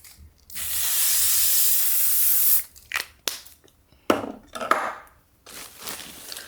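A cosmetic skin finish setting spray hisses out in one long continuous burst lasting about two seconds, followed by several short, sharp spritzes and light handling clicks close to the listener.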